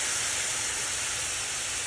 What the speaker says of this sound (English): add it to a hot pan. Just to get it to sizzle like that.